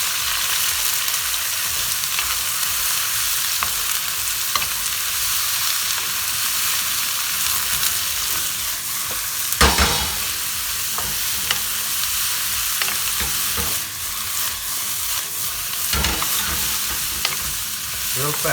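Garlic, jalapeño and mushrooms stir-fry on very high heat, a loud dense sizzle running steadily with occasional sharp clanks and scrapes of quick stirring, close by and without talk.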